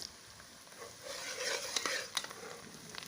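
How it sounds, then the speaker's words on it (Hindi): Onions browning in a pan for a potato and spinach dish, stirred now and then, giving a soft, steady sizzle with light scraping strokes that grow busier midway, close and fairly quiet. "प्याज ब्राउन हो रहा है।"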